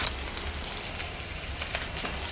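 Curry leaves and green chillies sizzle and crackle steadily in hot oil in a pan while cauliflower gravy is cooked, a close, continuous frying hiss with small pops.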